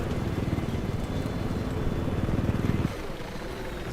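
Helicopter flying in Battlefield 4, a rapid rhythmic rotor chop thumping close and loud for about three seconds before cutting down to a lower steady hum.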